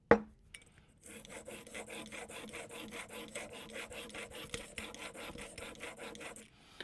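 A Magnus broadhead rasping steadily across fine sandpaper in a continuous run of gritty strokes, close and moderately loud, with no talking.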